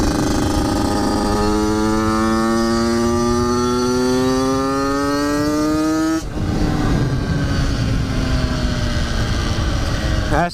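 A Yamaha YZ85 dirt bike engine with a suspected carburetor fault revs loud and close, its pitch climbing steadily for several seconds, then drops abruptly as it bogs before picking up again.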